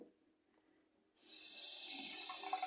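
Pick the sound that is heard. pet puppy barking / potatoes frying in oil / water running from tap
water running from tap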